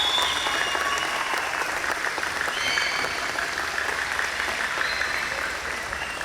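Crowd at a summer gifted-and-talented education expo gives a round of applause for instructors: sustained, even clapping from many hands, fairly loud and close, with faint whoops, easing slightly at the end.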